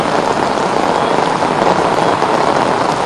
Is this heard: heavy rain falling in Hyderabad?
yes